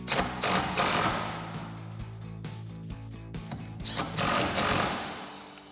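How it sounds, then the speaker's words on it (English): Repeated ratcheting clicks from a 5mm Allen socket tightening bolts on an adjustable bed rack fitted to a Ford F-250, coming in close, uneven bursts with brief pauses between them. "Now we'll grab our 5mm Allen socket and tighten these down"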